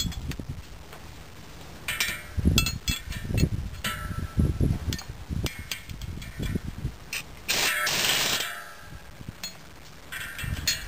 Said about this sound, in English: And we're going to grab a 15/16 wrench and our impact wrench again.